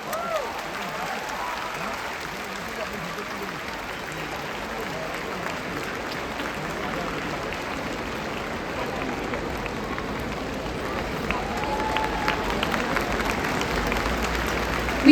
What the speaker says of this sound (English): A huge round of applause, ladies and gentlemen, for Shorendra and Shomujit.